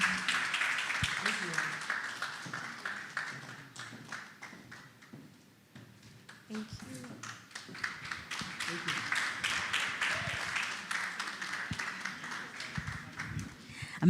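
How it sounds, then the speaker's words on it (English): A conference audience claps for returning participants, a dense, steady patter of many hands that dips briefly midway and then swells again, filling the room. "Please put your hands together for them as they go back to their seats"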